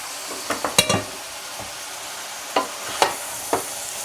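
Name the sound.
sautéing vegetables for ratatouille over high heat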